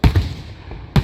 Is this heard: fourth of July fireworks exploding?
yes